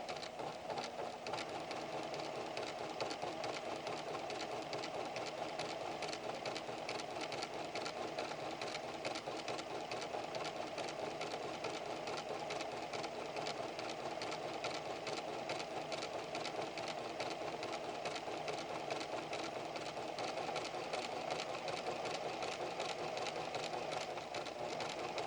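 A Pfaff Creative 7550 sewing machine runs steadily while sewing a rolled hem, a continuous close whirring buzz with a fast even stitch rhythm that holds at a constant level throughout, with no voices.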